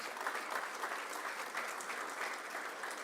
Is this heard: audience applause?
yes